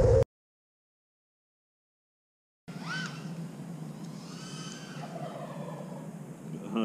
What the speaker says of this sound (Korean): I'm pissing off the turkeys.